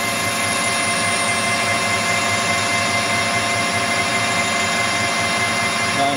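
A steady, loud mechanical whine and hum of a metal lathe making a facing cut, droning evenly without pause throughout.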